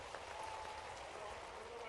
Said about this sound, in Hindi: एक बार पूरे कार्यक्रम के लिए जोरदार ताली बजा करके।